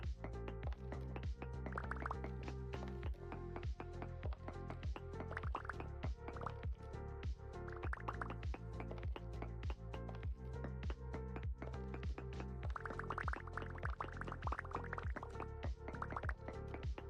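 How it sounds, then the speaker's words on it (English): Water in the Vintage Story video game, heard as continuous quiet dripping and trickling with irregular, repeated drops and a faint liquid wash, with no talking. "I hear water."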